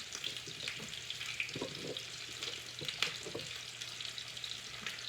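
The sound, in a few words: onions sizzling in a pan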